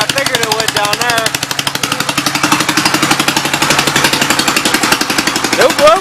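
A 1952 Gravely Model L engine, leaking oil and sputtering as if low on fuel, runs with a fast, loud, steady hammering putter throughout, with a brief voice near the start.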